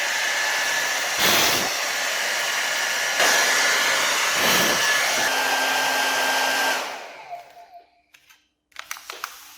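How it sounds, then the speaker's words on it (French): A hair dryer blows hot air in a loud, steady roar, briefly surging and dipping a few times before cutting out abruptly, followed by scattered small clicks and handling noises. "mon sèche-cheveux vient de s'éteindre"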